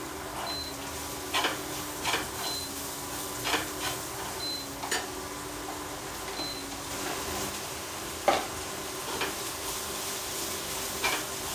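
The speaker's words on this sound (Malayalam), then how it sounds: "ഇനി നമുക്ക് പയറിട്ട് കൊടുക്കാം." Beans are added to a hot pan and stirred while frying for avial, with a steady sizzle and repeated rhythmic scrapes and clinks of a spoon against the pan, close and clear with no talking.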